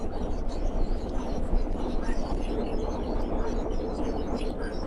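A wood stove chimney draws hard, a steady low roaring rumble filling the clip without a break, close and continuous.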